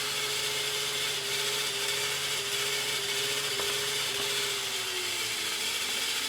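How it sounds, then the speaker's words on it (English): Noisy VHS cassette whirring inside a Panasonic PV9450 VCR during a service, a steady mechanical hum with a gently wavering tone that slows slightly toward the end, close and continuous with no talk. "That's the cassette that's making noise, by the way."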